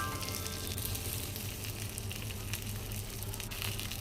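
Potato fry with green chili and curry leaves sizzling steadily in a pan while being stirred, a continuous close frying hiss with soft scraping, no voices.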